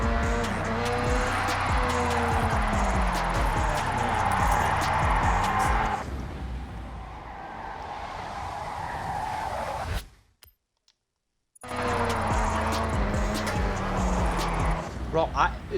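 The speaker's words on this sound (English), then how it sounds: "the drifting in this is horrible" Car drifting in the Forza Horizon 6 racing game, with traction control on: a steady engine drone and sliding tire noise for several seconds, dropping out briefly near the end before resuming, while a person talks over it.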